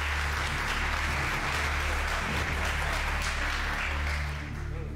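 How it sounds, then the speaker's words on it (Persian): A studio audience on a quiz show claps steadily for the contestants, the applause fairly quiet and even over a low droning hum, tapering slightly at the end. "تشویقشون کنید"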